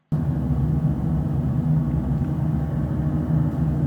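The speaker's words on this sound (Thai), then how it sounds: "เป็น noise บนเครื่องบินครับ" A recording of airplane cabin noise plays loudly through speakers in a room, a steady low droning rumble with a hum near the bottom, continuous and unbroken across the few seconds.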